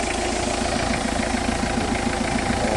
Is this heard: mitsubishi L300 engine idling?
yes